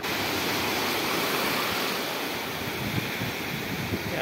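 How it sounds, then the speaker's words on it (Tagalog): Strong sea waves surging and crashing steadily while fishing from the shore, a broad continuous wash of rough surf with no voices. "Yan, sobrang alon."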